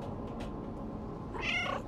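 A single short cat meow in the video game Stray rises near the end, over a low steady background hum.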